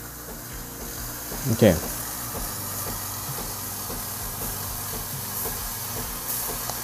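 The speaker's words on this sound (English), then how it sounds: "It's generating a lot of steam, which is good." Breville Barista Express espresso machine steam wand fitted with a three-hole tip, releasing a steady, broad hiss of steam that runs throughout, with a brief thump near the start and a single short spoken word.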